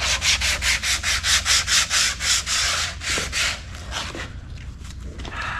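Fiberglass being sanded by hand with 80 grit sandpaper, loud close rasping strokes in a steady rhythm of about a dozen passes, then softer and more irregular scrubbing.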